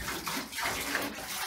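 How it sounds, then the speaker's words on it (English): Running water rinses a German Shepherd puppy during a bath, a steady broadband splash and stream with no clear breaks, fairly close and filling the short stretch on its own. "now keep rinsing it off with a scrub."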